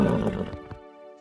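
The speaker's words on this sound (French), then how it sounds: "C'est le cheval Pégase!" A cartoon horse, Pegasus, neighs in one clear whinny that breaks off abruptly, then a sustained musical tone rings on alone.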